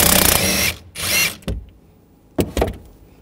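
A power tool buzzes loudly in two short bursts, removing a rear shock absorber nut on a 2007-2013 BMW 328i with a 16 mm socket, followed by a few sharp clicks and clatters of the tool and the nut.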